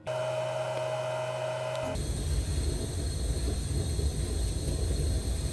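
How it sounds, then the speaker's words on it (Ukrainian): Heating pump in a solid-fuel boiler system, running on a car inverter with pure sine output, gives a steady low hum and whir. A brief tonal whine at the start cuts off into continuous even pump noise. "Насос працює у звичайному для нього режимі зі звичайним звуком"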